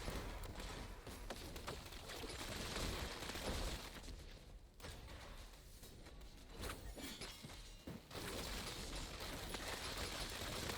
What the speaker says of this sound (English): Just more mortars.